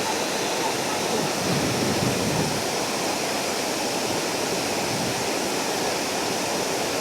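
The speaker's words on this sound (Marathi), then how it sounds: "ह्याचं पाणी आता इकडनं सरळ ओव्हरफ्लो होऊन खाली जात आहे" Steady rushing water from an overflowing lake pours continuously, a broad loud hiss like spillway flow, with no pauses.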